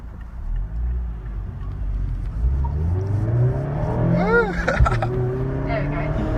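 Mazda MX-5 RF accelerating, its engine note rising and building in pitch with a brief shift partway through, heard from inside the car while occupants talk.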